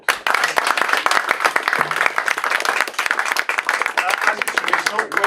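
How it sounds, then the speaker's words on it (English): A book-talk audience bursts into a round of applause, dense overlapping clapping from many people that stays full and continuous for several seconds. "let's give all of us a big round of applause"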